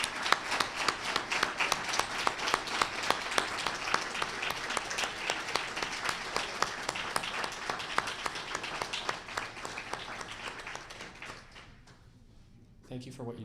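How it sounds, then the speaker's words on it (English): Sustained applause from an audience honoring recipients at the 2024 Excellence in Long Term Care Awards: dense, steady clapping from many hands that thins and fades out near the end. "First thing is just one more round of applause for all the honorees."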